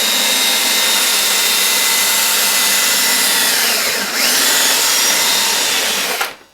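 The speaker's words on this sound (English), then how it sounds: "drill with wild abandon" A power drill runs loud and continuously for several seconds with a steady high whine, drilling through a foam RC plane, then stops abruptly.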